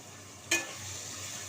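Dried fish sautéing in oil with softened tomatoes, a soft steady sizzle with two brief louder scrapes of stirring, fairly quiet and close.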